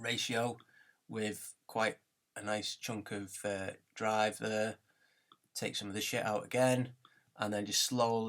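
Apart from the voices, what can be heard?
No everyday noises stand out.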